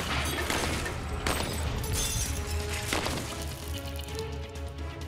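An STG-44 rifle firing its intermediate cartridge at targets on a range, with several sharp reports spaced about a second apart over a constant, loud background wash.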